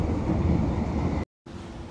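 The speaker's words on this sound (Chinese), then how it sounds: "依家搭地铁，落楼梯，地铁好多人" A subway train in a crowded metro station: a steady low rumble and roar that cuts off abruptly into silence for a moment, then returns.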